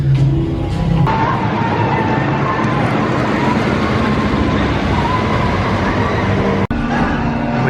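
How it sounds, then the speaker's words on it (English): A loud, steady mechanical rumble and rattle of a roller coaster train climbing the lift hill at Alton Towers, continuous throughout, with a brief break near the end. "I noticed the train going up the lift hill"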